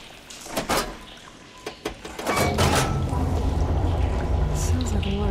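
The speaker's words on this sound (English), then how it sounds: "Sounds like the water's switched." Machinery in Horizon Forbidden West switches its water flow: a few sharp metallic clunks and drips, then a low rushing, churning stream of water swells in and keeps flowing steadily.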